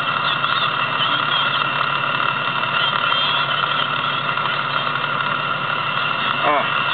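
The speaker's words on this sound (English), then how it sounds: "And we got a U.S. Air taxiing out." A US Airways airliner taxiing out produces a steady, muffled engine drone heard over a narrow, radio-like channel, with faint voices running beneath it.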